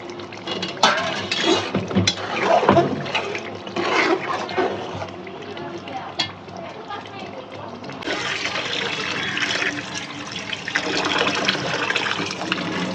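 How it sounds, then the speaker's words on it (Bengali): Rice for beef khichuri is rinsed in a pot of water, giving continuous sloshing and swirling with occasional clinks against the vessel, close and fairly loud, with a voice speaking now and then. "চালটা সুন্দর করে ধুয়ে নেই"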